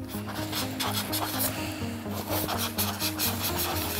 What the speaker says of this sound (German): mache die Löcher dann noch ein bisschen größer